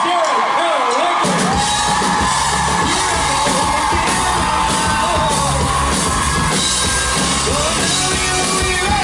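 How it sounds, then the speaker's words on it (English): Audience at a convention panel for Jensen Ackles and Jared Padalecki erupting in loud, sustained cheering, yelling and whooping with music underneath, starting abruptly after a brief quieter moment. "big round of applause for Mr. Jensen and Jared Padalecki"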